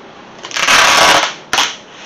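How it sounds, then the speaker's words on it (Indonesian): Packing tape pulled and pressed to seal a frozen food package for shipping: one loud crackling rip lasting about half a second, then a shorter sharp tearing burst close by. "Kita lakban sampai rapet, harus bener-bener rapet guys."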